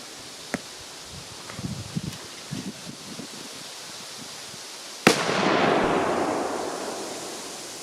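Achtung 5G and Kalashnikov 500SH firecrackers go off outdoors: a sharp crack and a few scattered pops, then a loud blast followed by a long, fading hiss and rumble.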